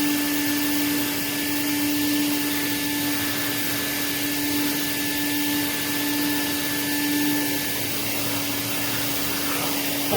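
A Prolux CTX water vacuum draws air steadily through a power nozzle. It gives a loud, constant motor roar and whine with a strong fixed tone, unbroken for about ten seconds and with no voices.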